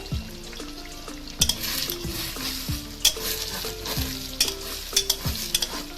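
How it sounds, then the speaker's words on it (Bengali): Egg frying in a pan with a steady sizzle, broken by repeated scraping and knocking of a utensil stirring against the pan in an irregular rhythm. "ডিমটাকে আগে ভাজা ভাজা হতে দেবো"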